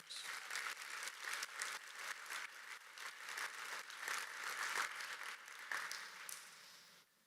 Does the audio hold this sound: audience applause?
yes